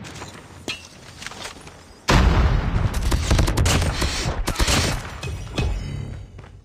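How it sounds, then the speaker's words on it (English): Grenade explosion and gunfire in Call of Duty: Mobile, with an ASM10 assault rifle in play: a loud sudden blast kicks off a dense stretch of rapid gunshots and debris clatter, after a quieter lead-in with scattered shots. "Grenade!"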